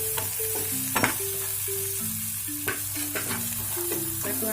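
Onions frying in a pan for vegetarian chicken-style gravy, a steady close sizzle with occasional stirring clinks and scrapes, alongside tonal kitchen hum; no one speaks.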